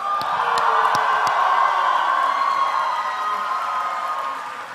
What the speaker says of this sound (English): Can we hear you applaud and cheer,